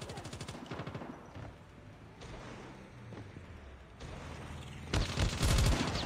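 An S36 machine gun firing in Call of Duty Mobile, with rapid automatic bursts early on, game background noise, and a louder close burst near the end.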